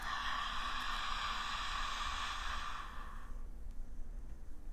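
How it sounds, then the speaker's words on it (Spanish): A deep breath drawn in through a wide-open mouth, loud and breathy for about three seconds before fading into quiet room hiss. "inhalo con la boca abierta."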